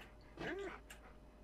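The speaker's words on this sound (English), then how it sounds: "Dog?" A dog in the survival video game 7 Days to Die gives a single short whine-like bark at moderate distance over a low, steady background hum.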